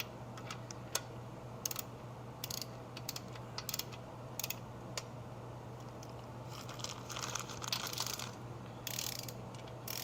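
A wrench torquing main cap studs on a small block engine, with scattered sharp clicks and short ratcheting bursts over a steady low hum, close and fairly quiet; no talking.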